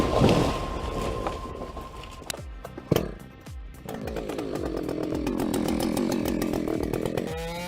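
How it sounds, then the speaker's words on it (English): A chainsaw roars through giant cedar trees, revving and bogging as it bites, with a few sharp knocks, then settles into a steady loud cutting drone. "Imagine the thunderous roar of chainsaws"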